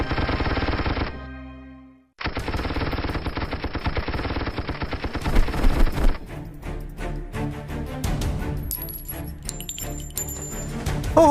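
A dense rapid burst of automatic gunfire in a drama film cuts off briefly, then resumes as a long sustained rattle, followed by scattered clatter and high metallic pings.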